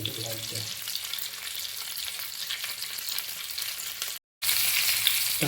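Country crabs coated in besan frying on a tawa, Konkan home style, giving a dense continuous close sizzle with faint movement, cut by a brief silent gap near the end.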